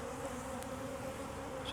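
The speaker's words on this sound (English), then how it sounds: "Now remember, these are angry bees" Angry bees swarm and buzz around an opened hive during requeening, a steady, dense drone close by with a few individual bees whining past.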